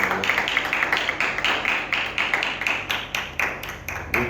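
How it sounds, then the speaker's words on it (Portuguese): A small audience claps for a school presentation on adaptive sport for people with physical disabilities, with irregular, fairly sparse individual claps from nearby. "Uma salva de palmas aí, galera."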